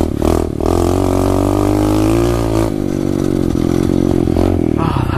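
A 2015 SSR 125 four-speed pit bike's engine revs loud and close, its pitch rising and falling through a few throttle blips, with a rough buzzy tone throughout.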